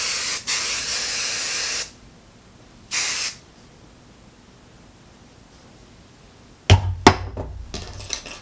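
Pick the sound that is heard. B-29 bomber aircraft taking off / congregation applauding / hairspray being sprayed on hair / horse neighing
hairspray being sprayed on hair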